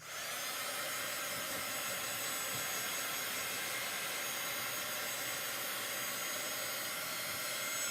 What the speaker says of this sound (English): I'm going to take my little dryer.